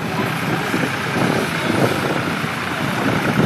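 An old Ford tractor engine runs steadily at a show tractor parade, a continuous rough low mechanical drone that stays loud and even throughout.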